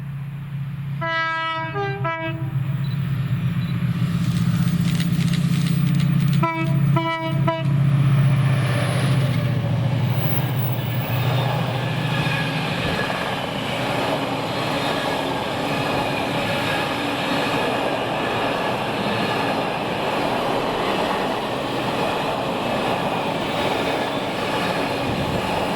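Class 68 diesel locomotive 68016 hauls the 4Z27 Mossend to Daventry intermodal freight past Whalley, sounding its horn in two short bursts before a loud, steady engine roar and rolling wagon rumble carry on alone.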